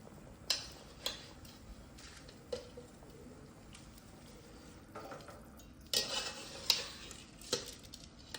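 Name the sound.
pre-washed rice added into pot for biryani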